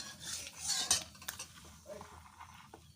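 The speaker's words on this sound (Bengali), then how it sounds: "আমি এখন জিরে দিয়ে দিয়েছি। সুন্দরভাবে নেড়ে নিচ্ছি।" Cumin seeds fry in oil with bay leaf and dried red chillies while a metal spoon stirs the pan, producing clattering scrapes and clinks over a faint sizzle.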